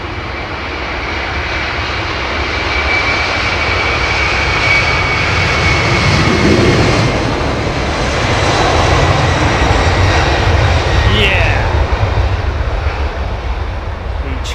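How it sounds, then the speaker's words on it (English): A Rolls-Royce Trent 700-powered Airbus A330 at Heathrow roars loudly and steadily, engine noise swelling toward the middle and holding a broad rumbling whine for the whole stretch, with no voices over it. "Trent 700 is the Rolls-Royce Trent 700, developed for the A330 aircraft."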